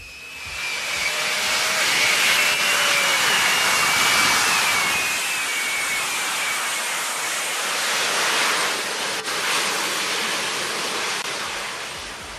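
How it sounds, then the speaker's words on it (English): Jet engines of a Lazareth LMV 496 flying motorcycle roar in a steady, loud broadband rush with a faint rising whine, holding constant for about twelve seconds without voices. "after waiting about 60 seconds for the jets to preheat"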